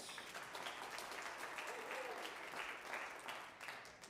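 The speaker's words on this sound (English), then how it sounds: "nice round of applause for Dr. McGinnis" An audience applauds a retiring pastor at a live church variety show, a broad, steady clatter of many hands held at a constant level for several seconds.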